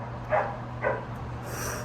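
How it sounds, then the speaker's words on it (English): Two short barks from the speaker's dogs indoors, a moderate distance away, spaced about half a second apart over a steady low hum, with no talking. "Sorry about my dogs barking."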